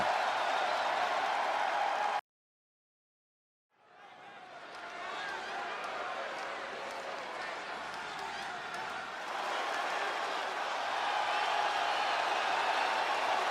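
An arena crowd in the WWE 2K25 wrestling video game roars and applauds in a steady broadband wash that drops out briefly into silence, then swells back and holds loud and continuous.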